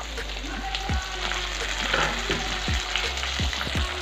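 Tomato frying in a pan for bhaji, a continuous sizzle with a few spoon knocks against the pan, close and moderately quiet, with brief low voice sounds.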